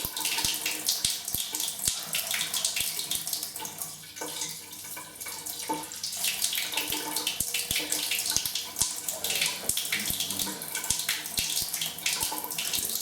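Tap water runs steadily into a sink as wine kit equipment is rinsed, a loud continuous splashing with small knocks from the gear being handled.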